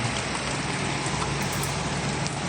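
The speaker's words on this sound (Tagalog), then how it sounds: "Kanina pa yan naulan." Heavy rain falling steadily under a dark sky, a dense, even hiss of drops that continues unbroken and close by.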